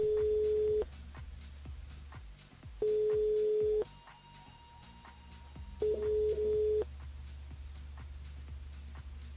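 Calling a mobile phone line on a radio broadcast: repeated steady ringback tones, three long beeps separated by pauses, clear and alone over a low hum.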